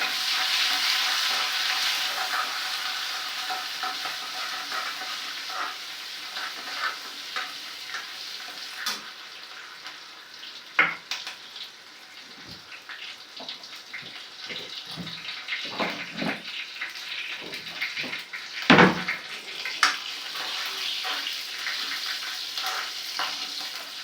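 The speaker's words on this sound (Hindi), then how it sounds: "ये डाल दीजिए पहले हींग, और अब डाल दिया मैंने थोड़ा सा जीरा, और ये डाल दिए अदरक और हरी मिर्च" Asafoetida, cumin seeds, ginger and green chili fry in hot oil with a continuous sizzle, broken later by scattered clinks and scrapes of a spoon against the pan.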